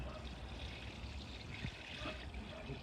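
A watering can trickles water onto freshly planted spring vegetables outdoors, a soft steady splashing and dribbling at close range with faint background ambience and no talk.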